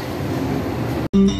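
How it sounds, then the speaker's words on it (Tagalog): Train pulling into a station in Osaka, Japan: a rushing rumble close by, then a brief cut and a higher tonal squeal as it slows. "yung sasakyan namin tren"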